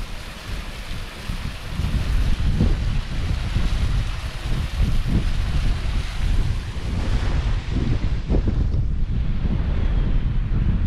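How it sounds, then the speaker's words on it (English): Strong wind on an exposed fell hike up to Cross Fell roars and buffets steadily against the microphone, loud and continuous with gusty swells and no talking. "Hard in the wind, like wind's just in your face all the time. It's really strong."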